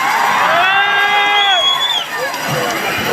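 Large outdoor crowd cheering and whooping at an election campaign rally in Palladam town, a loud continuous roar with high shouts and whistles rising over it for about two seconds, then easing slightly.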